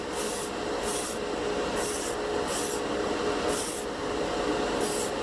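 Master airbrush spraying primer, fed by a portable air compressor, giving a steady hiss of air with short bright bursts of spray coming in a regular series of pulses, close and moderately quiet.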